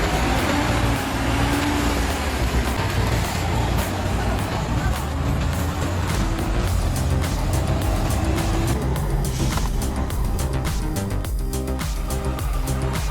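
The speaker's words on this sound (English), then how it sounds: "the timber trucks move majestically forward" Heavy timber trucks grind along mountain roads off-road, a dense continuous engine roar and road rumble that stays loud throughout, with a faint tonal bed underneath.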